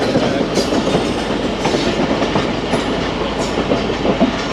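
A Marvi Passenger train runs on metre-gauge track near Mirpur Khas, giving a steady, loud rumble with a continuous clickety-clack of wheels over rail joints throughout.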